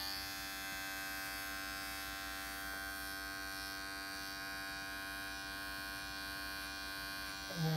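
Electric hair clipper runs steadily close by while cutting a tapered outline for an Ivy League haircut, a constant harmonic buzz with slight shifts as it moves through the hair, swelling briefly at the very end.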